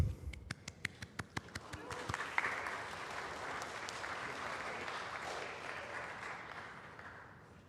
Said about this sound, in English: So I want to applaud all of you.